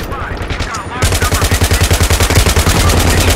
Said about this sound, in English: all explosions do have a pressure wave that moves through the environment in a very realistic way